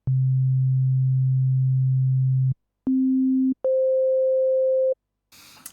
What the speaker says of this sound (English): this is the waveform, and this is called a sine wave